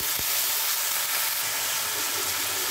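Turmeric-soaked vegetables fry in hot oil for moong dal, giving a loud, dense and continuous sizzle that stays even throughout, with a faint stir at the start.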